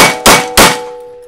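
Two Glock pistol shots at an indoor range, loud sharp cracks about a third of a second apart, each followed by a ringing metallic tail.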